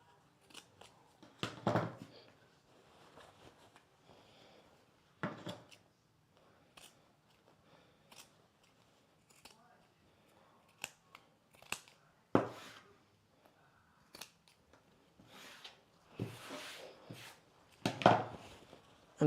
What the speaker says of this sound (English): I'm just gonna use my scissors.